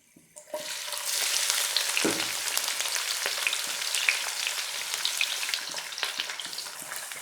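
Onions sizzling in hot ghee, a soft bubbling crackle that starts suddenly as they hit the pan and continues steadily with faint stirring scrapes, moderately quiet and without any talking.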